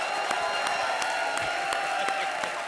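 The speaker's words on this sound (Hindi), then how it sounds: "क्या तालियां बजा रहे हो?" A comedy show studio audience claps along in a rhythmic, evenly spaced beat of claps over a steady background murmur, moderately loud.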